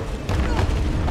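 Grenade launcher round blasting in Resident Evil 3 Remake, a heavy low boom swelling in partway through and rumbling on for about a second, with game noise around it.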